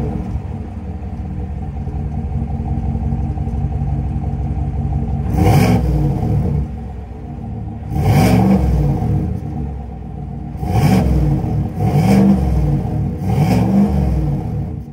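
A 2024 GMC Sierra Denali's 6.2 liter Ecotec V8 with active exhaust idles in a deep rumble, then barks through five or six sharp, loud revs in quick bursts, close by with no talk.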